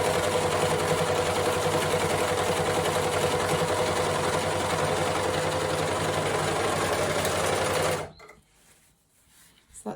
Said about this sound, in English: So I'm going to overlock each edge and then show you what it looks like.